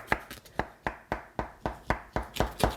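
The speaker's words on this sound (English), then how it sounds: "just using a knife, I'm just going to go around and cut this shape out" A knife cuts around a circular shape in a Neapolitan cake, producing about nine regular, close taps of the blade striking the board or plate underneath, steady and fairly loud with no talking.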